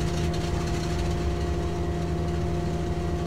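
Engine 1 of a Douglas DC-2 in a flight simulator video game runs at a steady idle, a continuous low droning hum with constant tonal whine and no talking.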